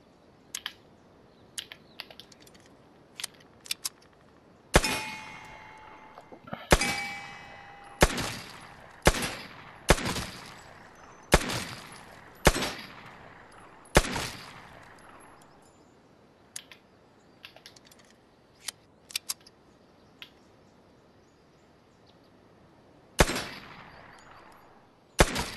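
Gunfire in the PS4 shooter Vigor: sharp single shots spaced irregularly, several in a quick run then a pause and a few more, loud and close with short decaying tails.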